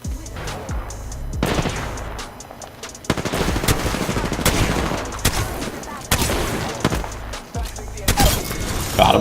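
Gunfire during an Apex Legends match: rapid automatic bursts and single shots crack repeatedly and loudly over booming impacts, while voices talk over the fighting.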